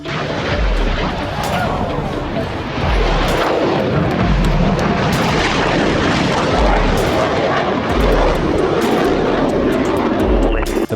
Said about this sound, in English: The plane touches down